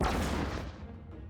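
A frag grenade blows up in a tactical RPG video game as a single loud, broadband boom at the start that rolls off into a fading rumble.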